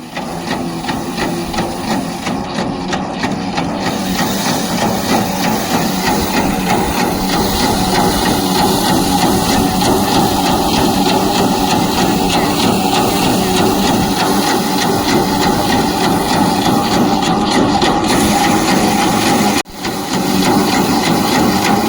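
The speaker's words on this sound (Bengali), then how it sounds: "এবার মেশিনটা চালু করলো গৌরব এসে, মানে দাদার ছেলে" A paddy threshing machine runs steadily by hand-fed rice harvest work, a loud continuous mechanical clatter and whir with a low drone, holding constant throughout apart from one brief dip near the end.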